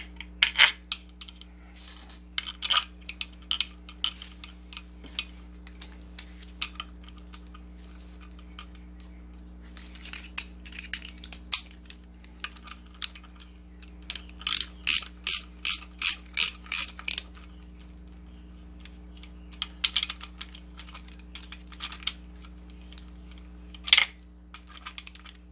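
Small metal bolts being fitted and driven in during a balance shaft installation on a Honda G23 VTEC engine, heard as repeated ratcheting clicks in short bursts and clusters over a steady low hum, close and moderately loud with no talking.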